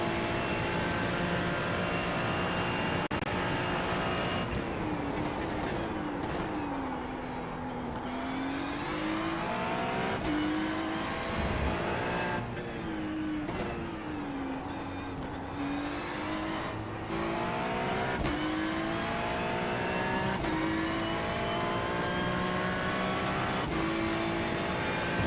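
GT3 race cars lapping The Bend circuit, engines roaring loud and steady with shifting pitch as they accelerate, change gear and pass by, a continuous mechanical drone with no talk.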